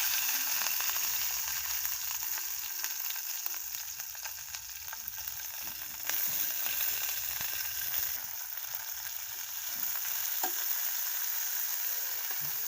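Chopped green chili, onion and garlic fry in hot oil in a pan for tomato mash, producing a loud, continuous close-up sizzle with occasional stirring scrapes.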